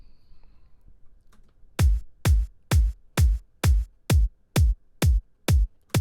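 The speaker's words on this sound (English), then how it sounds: "So that's the kick drum." Eleven tight, punchy processed kick drum hits in an even rhythm, deep and short, after a moment of near silence, from a disco track mix.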